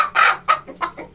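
An Aseel hen clucks close by in a few short, throaty bursts with brief pauses between them.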